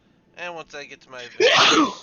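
A person speaks briefly, then lets out a single loud, explosive sneeze close to the microphone.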